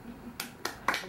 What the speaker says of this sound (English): That guy started a clap.